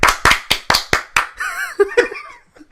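Six sharp, fairly close hand claps land in a quick, slightly uneven rhythm, followed by laughter and voices speaking.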